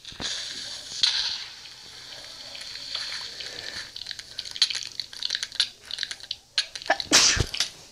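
A single sharp sneeze near the start, loud and close, followed by scattered clicks and clattering noises from a Minecraft game session with no speech.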